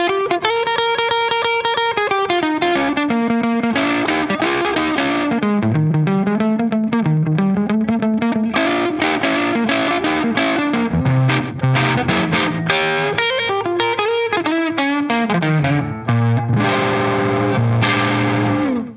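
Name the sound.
electric guitar through Crazy Tube Circuits Falcon pedal with slap delay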